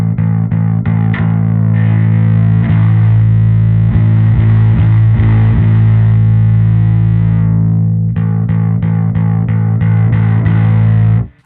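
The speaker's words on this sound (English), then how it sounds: "even at completely closed, you still get some distortion." An electric guitar through the overdrive block of an Anagram effects unit plays sustained, gritty chords and repeated picked notes, heavily distorted, loud and fuzzy throughout before cutting off at the end.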